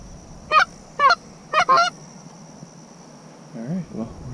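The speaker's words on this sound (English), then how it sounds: "I hear some more geese" Geese honk in several short, loud bursts close by during a goose hunt, followed by a pause and then a softer, lower run of calls, with a steady insect buzz underneath.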